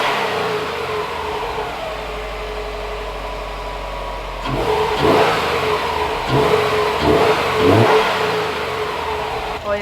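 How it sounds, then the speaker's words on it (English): Subaru WRX STI fitted with a cold air intake, idling and then blipped through several sharp revs in a row, each rising and falling quickly with turbo whoosh, recorded up close with no talking. "Let's see if we can hear that turbo sound just a little bit."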